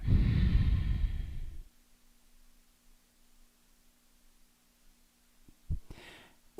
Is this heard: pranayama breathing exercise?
yes